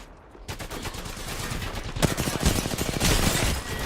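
Rapid video-game gunfire rattles in dense bursts after a half-second of quiet, growing louder and more sustained toward the end, with no talk over it.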